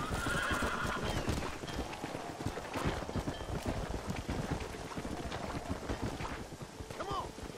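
Horse hooves clip-clopping at a run with a whinny near the end, from horseback riding in the video game Red Dead Redemption, steady and loud with someone talking over it.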